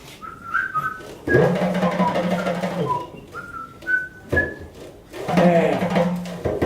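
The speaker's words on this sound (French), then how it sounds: "Ça, c'était le sifflotement du pompier." Someone whistles a lilting tune in short phrases with pauses, while low knocking and shuffling noises come and go underneath.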